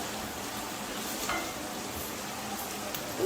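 Chopped big onions frying in a pan for mochai kulambu, a steady close sizzle with light stirring scrapes near the end.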